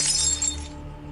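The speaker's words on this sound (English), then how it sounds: "I reach for my glass of Johnny Walker, but my movements are uncoordinated and I knock it onto the ground." A glass of Johnnie Walker whisky knocked to the floor shatters in one sharp, close crash, its bright tinkling fragments ringing briefly before fading away.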